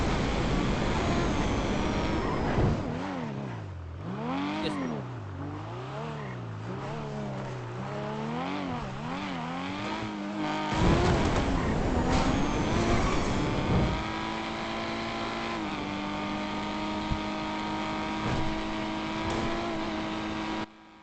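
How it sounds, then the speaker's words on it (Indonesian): A racing car engine revving in a GTA roleplay game, the pitch swooping up and down through repeated throttle blips, then settling into sustained high revs as the car accelerates, loud and close throughout. "Kenceng nih mobil nih, mobil buat balap nih"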